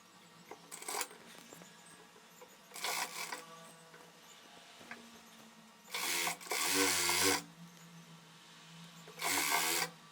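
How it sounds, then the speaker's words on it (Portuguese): Short bursts of a straight-stitch sewing machine running elastic onto dress fabric, four distinct runs of whirring stitching separated by quiet pauses, close and fairly loud. "vou rebater esse elástico também na máquina reta"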